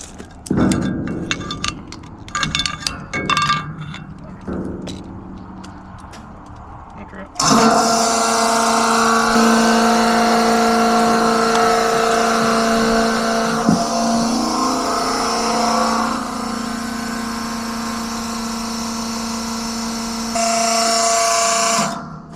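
A pickup truck engine drones loudly and steadily from inside the cab after a start with scattered clicks and movement, a sustained whine running under someone talking, ending abruptly.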